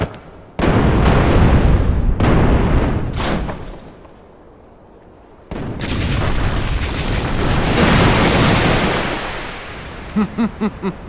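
A fire spell goes off in the Kingdom Hearts game as a loud roaring burst that swells, drops away, then surges again into a long rumbling blast, ending in a few quick pulsing tones.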